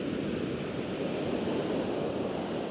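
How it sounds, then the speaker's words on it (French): Large ocean waves breaking on the Portuguese coast at São Pedro da Cadeira, a steady broad roar of surf with wind buffeting the microphone, continuous and even throughout. "C'est plus des vagues, c'est des monstres."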